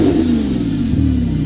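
Turbocharged car engine revving at close range, a loud sustained drone with a thin whistling tone riding above it, briefly dipping about a second in before holding steady.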